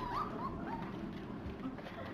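Three-week-old puppies whimper and yip in soft, scattered bursts beneath a steady low household rumble, fairly close.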